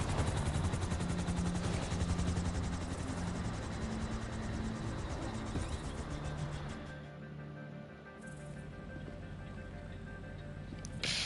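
A helicopter in GTA Online whirs with a loud, steady rotor drone that thins out partway through, then swells back, with no talking over it.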